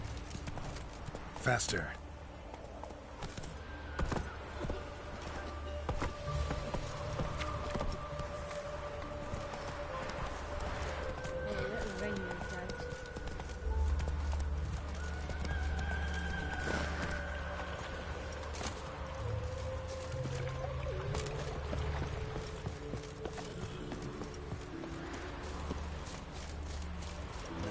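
Roach the horse gallops in Witcher 3 with steady rhythmic hoofbeats and an occasional whinny, set under game music and someone speaking.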